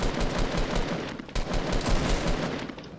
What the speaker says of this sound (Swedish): Någon skjuter på mig.